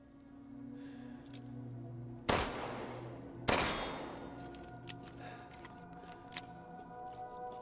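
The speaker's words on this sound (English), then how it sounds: "By the way, Lady Dimitrisk, please ignore the sound of gunfire coming from downstairs where you just were." Two sharp, loud gunshot blasts a second apart with echoing decay, then a few fainter distant pops over a low steady hum, from the video game Resident Evil: Village.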